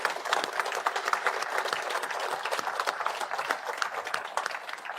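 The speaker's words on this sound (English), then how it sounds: "Can I get a round of applause for my panel, please?" An indoor audience applauds a panel at a First Nations carbon summit, with dense, even clapping that holds steady at moderate loudness throughout.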